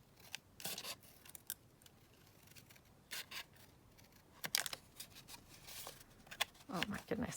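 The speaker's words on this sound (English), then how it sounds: "look at the mess I've made of cutting that." Scissors snip paper at a desk in a series of short, crisp cuts, close and fairly quiet, with brief pauses between snips.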